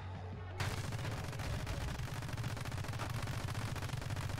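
Turrets fire in the video game My Friend Pedro, a dense, loud barrage of rapid gunshots that starts abruptly and keeps going without pause.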